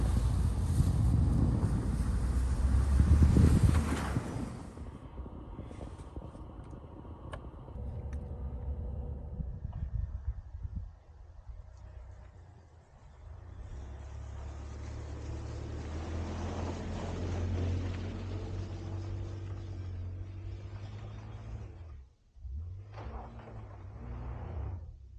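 A Polaris Ranger 570 midsize UTV climbs a snowy hill, its engine droning low and steady under strong wind buffeting at the start, then revving and shifting as it pushes upward.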